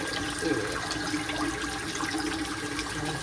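Food, likely rice, being rinsed under a running tap while cooking in a hotel room, a steady close splash and rush of water flowing without a break, with no talk over it.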